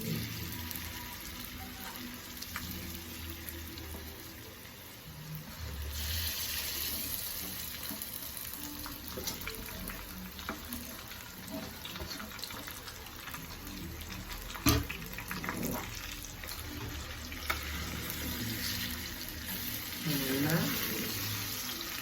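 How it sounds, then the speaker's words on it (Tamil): Upma mixture is stirred as it fries in oil with dal and chillies in a pan, a steady close sizzle with scraping and a few knocks of the spoon, continuing for a long stretch without clear talk. "இப்போ இதை கொஞ்சம் கொஞ்சமாக போட்டு இதை கலரலாம்"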